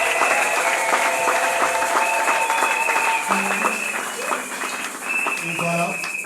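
A church congregation at a parish opening in N'Sele Kimpoku applauds in sustained, fairly loud clapping, with sustained musical tones and a low hum running underneath.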